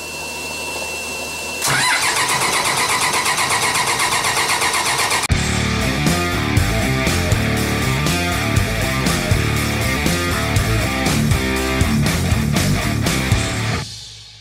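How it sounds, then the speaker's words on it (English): Cummins 6BTA turbo diesel on an Albin 28 boat: the starter whirs briefly, then the engine fires into a loud, clattering, rhythmic run for several seconds before cutting off abruptly. "Starting this Albin, this Cummins engine."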